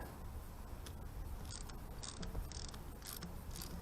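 A ratchet wrench clicks steadily as exhaust nuts come off a Yamaha XS750 motorcycle, a faint, close mechanical ticking over a steady background hiss.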